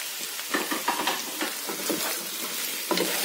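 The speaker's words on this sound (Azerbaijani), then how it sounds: "artıq bizim toyuğumuz da qızardı, rəngi dəyişdi" Chicken pieces fry in hot oil in a pan while being stirred, giving a continuous close sizzle with repeated scraping strokes and soft clatter at an uneven rhythm, with no voices.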